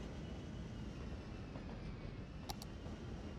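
Trains rumble along rail tracks in the city-building game Cities: Skylines, a faint, steady low rolling drone with a couple of brief high clicks.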